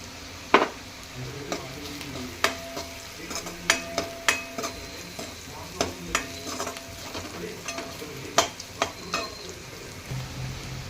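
Onion sautéing in oil in a pan with crushed peanut powder stirred in, a steady sizzle under repeated sharp scrapes and clinks of the spoon against the pan at an irregular rhythm.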